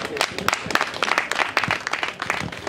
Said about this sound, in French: Non, mais applaudissez pour l'artiste.